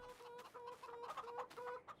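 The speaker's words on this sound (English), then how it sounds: "Got some chickens, no eggs." Several chickens in Farming Simulator 22 cluck in short, repeated bursts, fairly close but quiet, with uneven rhythm and no talking.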